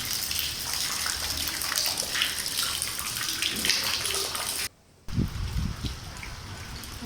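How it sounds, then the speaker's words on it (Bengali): Heavy rainwater pours off a rooftop during a downpour in Chattogram, a steady loud rushing gush that cuts out briefly near the end, then resumes with deeper splashing. "কি পরিমাণে পানি পড়তেছে ছাদ থেকে সব ছাদে পানি পড়তেছে"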